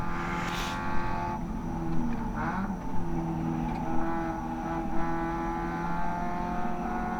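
A Spec Miata race car runs down the straight at Barber Motorsports Park, its engine droning loud and steady from inside the car with faint shifts and bumps along the way.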